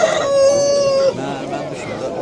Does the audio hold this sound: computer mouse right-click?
no